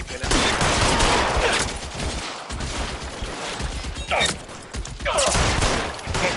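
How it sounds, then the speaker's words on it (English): Gunfire in L.A. Noire: rapid volleys of shots crackle almost continuously in dense, loud bursts, with a couple of brief lulls, and a voice is heard between them. "Lay down some covering fire"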